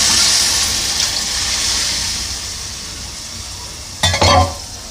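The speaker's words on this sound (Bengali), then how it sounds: "এই দেখুন আলু দিয়ে তেল ছেড়ে দিয়েছে, গরম করে রাখা যে জলটা ছিল সেই জলটা দিয়ে দেবো পুরোটা ভিতরে।" Potatoes fry in oil with a loud, continuous sizzle, then hot water is poured in near the end, causing a short, sharp gushing burst over the hiss.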